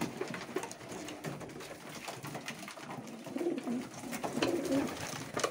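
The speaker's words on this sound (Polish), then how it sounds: "to tyle z gołębnika od gołębi pocztowych" Several racing pigeons coo softly and continuously in a small enclosed loft, their low burbling calls overlapping with light rustling.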